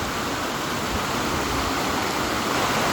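Broadband, steady rush of a waterfall on the Lahn river in Marburg, Germany, a constant close roar of falling water with no voices.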